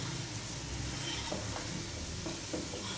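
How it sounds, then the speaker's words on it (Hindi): Tomatoes, green chillies, salt and garam masala fry in a pan for a beef yakhni pulao, giving a dense, steady sizzle with faint stirring scrapes throughout. "अब मैं इसमें डाल दूंगी टमाटर, सब्ज मिर्चें, नमक और गरम मसाला, और मैं इसको भून लूंगी।"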